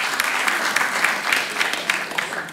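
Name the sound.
stand-up comedy audience applause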